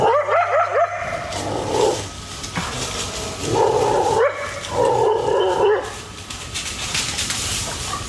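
Animals fighting in a front yard, a puma against a pair of coyotes: loud, close yips, barks and whining cries come in repeated bursts over several seconds, harsh and agitated, with no voices.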